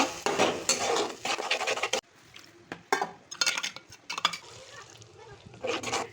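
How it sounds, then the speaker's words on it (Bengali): A paste of cashew, poppy seed, charmagaz and fennel stirred and sautéed in a pan, with scraping spoon strokes and clinks against the metal over a light sizzle, in irregular bursts with quiet gaps. "সব কিছু ভালো করে নেড়ে চেড়ে আমি একটু কষিয়ে নেব।"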